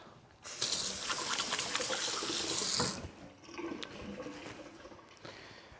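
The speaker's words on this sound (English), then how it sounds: "just let me wash my hands" Tap water runs steadily into a sink as hands are washed while making an Italian frittata, a loud rushing stream for about two and a half seconds that then drops to quieter splashing and dripping.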